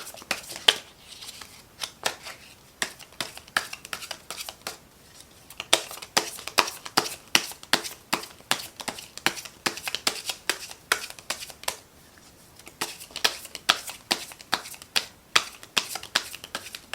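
Tarot cards being shuffled by hand, a long series of crisp riffling snaps and slaps in quick bursts, close and fairly quiet, with short pauses between rounds.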